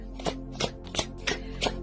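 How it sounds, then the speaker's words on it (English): Quick riffling shuffles of tarot cards, about five crisp bursts in a fast, even rhythm, close and fairly quiet. "I'm shuffling quite fast"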